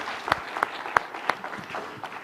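A handful of sharp, separate claps ring out at a slow, uneven pace over a soft room murmur, a small burst of applause from the audience at a Sweden-Korea Nobel memorial program as a literature session closes.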